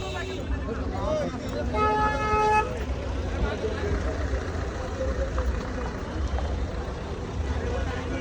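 Wedding convoy cars pulling away, a horn tooting briefly amid engine rumble and a busy crowd, with people talking throughout.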